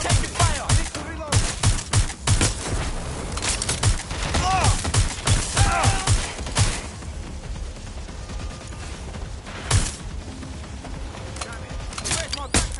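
Rapid gunfire in the action game Watch Dogs Legion, dense bursts of sharp shots that come in clusters and then thin out, with shouting voices over the top.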